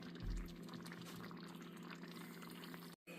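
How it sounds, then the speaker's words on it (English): Baked ziti sauce simmers in a pot with a steady, faint bubbling and burbling that continues throughout. A brief low thump comes near the start, and there is a momentary dropout just before the end, with no voices. "just kind of let it simmer for a couple minutes"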